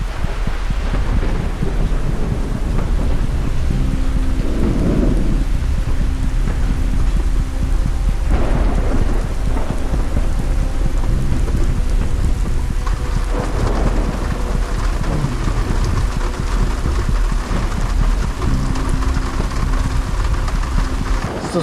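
Heavy rain pours steadily onto a wilderness hiking trail during a thunderstorm, with deep rumbles of thunder rolling in several times over the constant, loud downpour.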